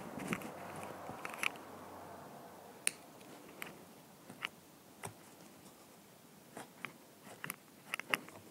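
A punch needle stitches through rug backing, producing faint, scattered little clicks and pops over a quiet, soft background.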